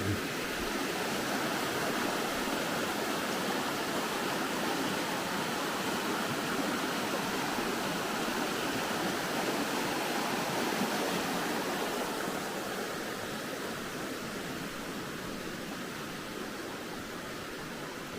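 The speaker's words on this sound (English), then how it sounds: "these Smoky Mountain streams are hard to beat" A Smoky Mountain creek in Joyce Kilmer Memorial Forest flows steadily, a loud, close, unbroken rush of water with no talk.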